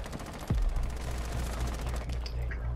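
Bursts of automatic gunfire in a tactical shooter match on the Consulate map, loud and close with a heavy low thump near the start, followed by sustained shots and scattered impacts.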